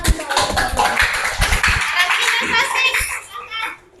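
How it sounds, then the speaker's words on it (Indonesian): Schoolchildren in an Indonesian classroom clap a quick round of applause, sharp hand claps mixed with lively children's voices, fading out near the end. "Berikan tepuk tangan untuk auditori."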